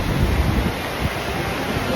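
Athirappilly waterfall roaring below a hanging bridge, a steady broadband rush of falling water mixed with wind buffeting the microphone, loud and continuous with no talk.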